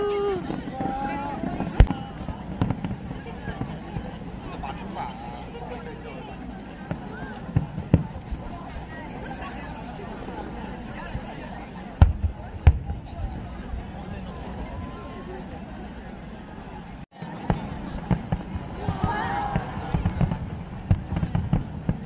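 Irregular pops and booms of fireworks at a Japanese summer festival go off at a distance, scattered over the steady chatter of a large crowd.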